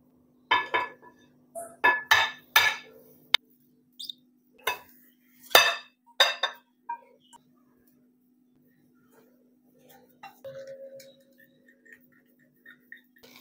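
Chapli kabab mince is mixed in a bowl, giving bursts of sharp clinks and knocks from a utensil against the dish, then quieter scattered taps and a faint hum in between.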